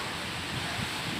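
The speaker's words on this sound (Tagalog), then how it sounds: "mahinang ulan pero malakas po ang hangin." Steady broadband rush of strong wind during a typhoon with light rain, with a low rumble, constant and fairly soft, no voices.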